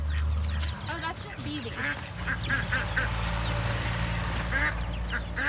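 Several ducks quack loudly and repeatedly close by, a busy, overlapping chorus with a person talking over them.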